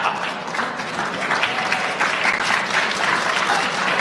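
An audience bursts into sustained applause, a dense, even wash of many hands clapping that holds at full strength throughout, close and loud.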